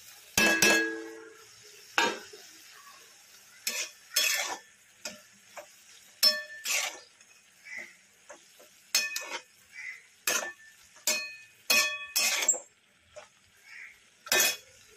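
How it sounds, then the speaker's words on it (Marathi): Vegetables are stirred and mixed with ground peanut powder in a pan, giving sharp, irregular metallic clinks and scrapes of a utensil against the pan, spaced through quiet gaps, with no voices. "तर आपण आता हे सर्व मिक्स करून घेणार आहोत"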